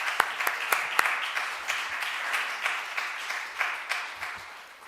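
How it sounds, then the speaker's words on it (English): Audience applause for a panel at the close of a public discussion on AI and the information crisis, steady moderate clapping with a few sharper claps standing out, sustained throughout. "if you give me a round of applause"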